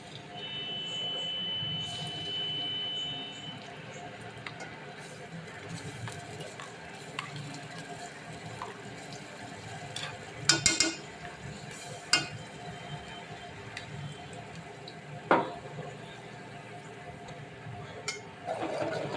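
Masala paste frying in oil in a pan as it is stirred, with a steady soft sizzle, scraping stir strokes and a few louder clinks of a spoon against the pan, close and without talk.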